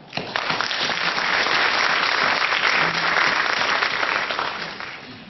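A conference audience at an opening ceremony breaks into full, dense applause that swells quickly, holds steady and loud, then tapers off toward the end.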